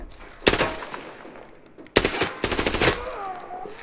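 Gunfire in the video game Arena Breakout Infinite: two loud bursts of rapid shots, the first at about half a second, the second a longer volley with separate cracks near two and a half seconds, a faint voice briefly underneath.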